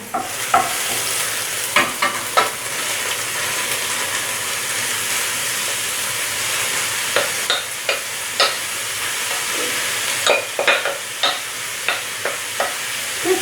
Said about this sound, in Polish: Pieczarki mam starte i przekładam na naszą patelnię.